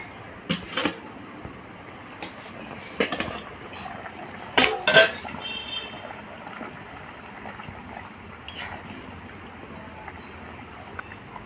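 A metal pot of potatoes gets covered with its lid: a few sharp clanks and clatters of metal on metal come in scattered bursts over a low, quiet background, with a louder double clatter near the middle.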